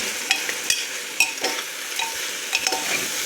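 A spatula stirs food in a hot pan after the lid comes off, with scraping clinks and a few sharp metallic taps over a soft continuous sizzle, close by and with no talking.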